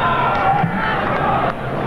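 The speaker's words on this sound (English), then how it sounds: "an enthusiastic crowd certainly" A large crowd roars in sustained, enthusiastic cheering at a 1985 FIFA Under-20 World Cup football match between Brazil and Saudi Arabia, a dense continuous wash of voices heard close and loud.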